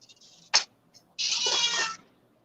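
A cat meows near a Christmas food vendor stall, a short sharp chirp followed by a longer, drawn-out meow, close and clear against a quiet background.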